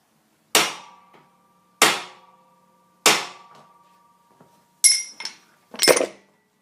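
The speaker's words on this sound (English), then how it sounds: "I will do it with the back of a chisel." Back of a chisel hammered against a seized swing arm suspension bolt on a DT400D motorcycle: three loud, evenly spaced metallic strikes that ring out and decay, then two sharper, clinking hits close by.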